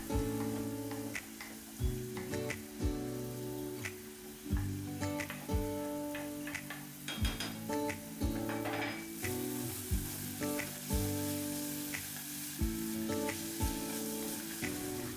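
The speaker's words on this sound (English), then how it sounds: "add some chopped garlic and spring onions and saute well" Chopped garlic and spring onions sizzle and crackle in hot oil while a spatula scrapes and stirs the pan in regular strokes, with no talking.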